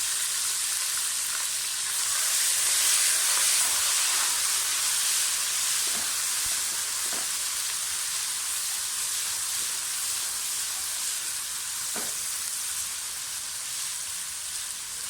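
Garlic and ginger frying with onions and whole spices in green-chilli oil for mutton yakhni pulao, a loud continuous sizzle and hiss with a few faint clinks, no talking.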